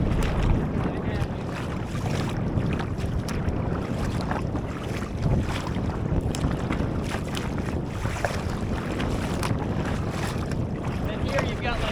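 Rough, confused sea waves slosh and slap around a sea kayak at Hurricane Pass while wind buffets the microphone, loud and continuous.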